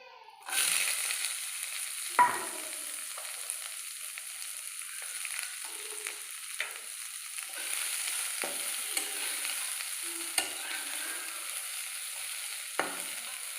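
Onion and green chilli frying in mustard oil in a wok for an Assamese brinjal dish. A loud, steady sizzle starts suddenly and runs throughout, with occasional clinks and scrapes of stirring.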